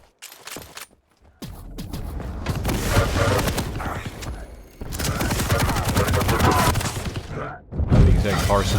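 Heavy machine gun fire in a Quake Champions duel rattles out in long, loud sustained bursts with brief gaps between them, dense and close, and heavy thuds mixed in.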